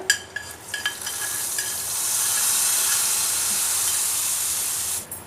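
Fenugreek seeds and asafoetida hit hot oil in a pan, giving a steady, bright sizzle with faint hiss and a few clinks at the start. The sound is close and has no talking over it.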